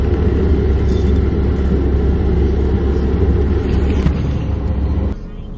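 Steady low rumble of a car's interior while driving, with continuous road and engine noise close around the cabin that drops off slightly near the end.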